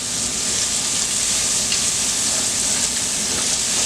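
Cajun shrimp stirred as it fries in a pan, giving a steady, close, broadband sizzle that holds evenly throughout, with faint scraping of the stirring mixed in and no voices.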